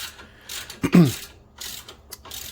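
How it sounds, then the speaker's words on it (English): A ratcheting wrench loosens a front suspension nut with a burst of quick mechanical clicking, then fainter ratchet sounds at close range, with a brief low grunt-like sound in the middle. "I can just use my ratcheting wrench there"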